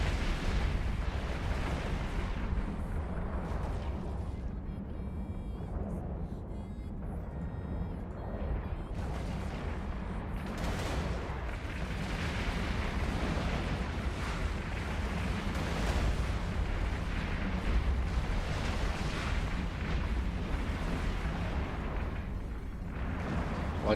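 Guns firing at a ship in EVE Online, a steady barrage of booming, rumbling blasts and bursts that persists loudly throughout with dense low-end weight.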